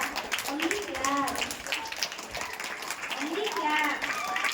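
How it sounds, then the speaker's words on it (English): Parents clap at a school annual prize distribution, a dense patter of applause under speech, with a person talking over it at close range. "Only clap, only clap,"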